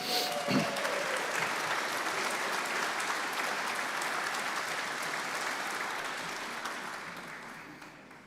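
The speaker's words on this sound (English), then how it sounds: "One more round of applause for our North Chapter Award recipients." A banquet hall crowd at a Georgia PGA awards dinner gives sustained, dense applause for the award recipients, steady and full throughout before easing slightly toward the end.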